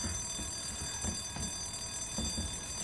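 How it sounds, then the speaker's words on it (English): A loud alarm rings continuously in the Resident Evil 2 video game, a steady piercing electronic tone with a faint pulsing rhythm that fills the whole stretch without pause. "That is a very loud alarm."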